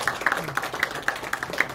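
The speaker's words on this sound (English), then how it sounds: "So I would request everyone to please welcome them with a big round of applause." Sparse clapping at a college guest lecture on PCBs, a small group of hands beating in a loose, uneven rhythm for under two seconds, fairly light and close.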